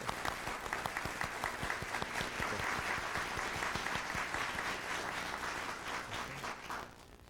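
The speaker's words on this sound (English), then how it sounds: "Let's give her a round of applause." Sustained applause from an audience at a NASA awards ceremony, a dense steady wash of clapping that carries on for several seconds before tapering off.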